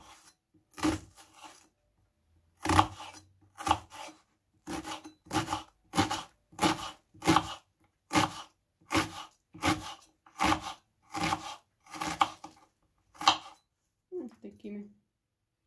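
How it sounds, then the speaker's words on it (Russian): A knife chops onion into small squares on a cutting board, a loud, close series of about fifteen crisp knocks in a fairly steady rhythm, with a brief scraping sound at the end. "Теперь нарезаем мелкими квадратиками также лук."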